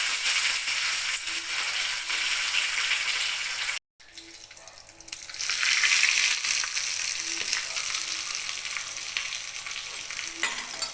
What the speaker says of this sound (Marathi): चला तडका देण्यासाठी आपण थोडीशी मोहरी टाकून घेऊ.